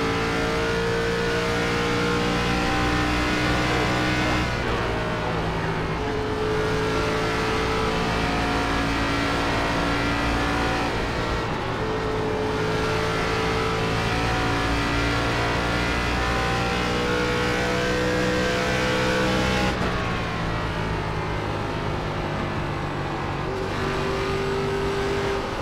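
Race car engines drone loud and steady in an iRacing ARCA Series race at Darlington, with pitch rising through revs and dipping at shifts, several cars sounding close together and no voices over them.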